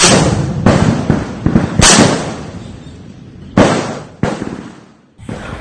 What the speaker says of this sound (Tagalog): Aktual na video ito ng pakikipagbalita ng putok ng tropa ng 2nd Infantry Battalion ng Philippine Army